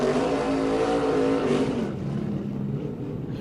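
Jesse Love's No. 20 Venturini Motorsports race car, winner of the 2023 ARCA Menards 250 in Minnesota, roars past on its victory lap, its engine loud and close at first, then fading into the distance.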